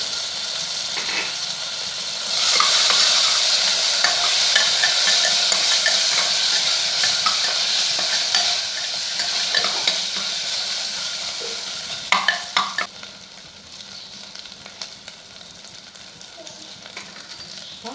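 Ginger garlic paste hits hot oil in a pan for tomato biryani, setting off a loud bright sizzle that fades slowly, with a spoon scraping and clinking as it is stirred up close.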